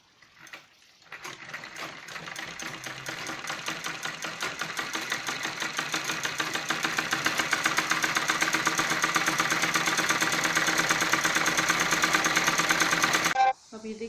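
A sewing machine stitches an extra reinforcing seam on a balloon salwar, running as one steady, loud, close whir for about twelve seconds before it cuts off abruptly.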